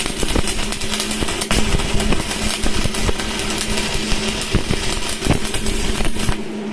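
Arc welding with a number 10 electrode rod on a heavy-duty welding machine gives a loud, continuous crackling buzz with sharp pops and a steady electrical hum, close up and without voices.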